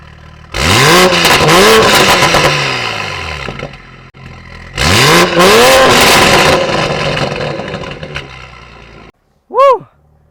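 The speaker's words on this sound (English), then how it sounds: "listen to that crackles and burbles of the F1 exhaust" Toyota Supra with an FI aftermarket exhaust revving hard in two loud bursts, each climbing and falling away into crackles and burbles, then a short sharp blip at the end.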